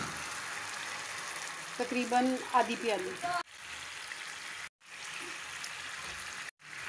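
Water pours into a chilli sauce of red chilli paste, lemon juice and vinegar in a home kitchen, a steady close hiss that breaks off briefly a few times, with someone speaking over the first half.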